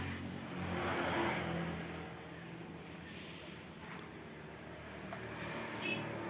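A Honda Vario 125 scooter with a power-loss and sputtering fault runs during a test, giving a steady, moderately loud engine drone with a slight swell near the start.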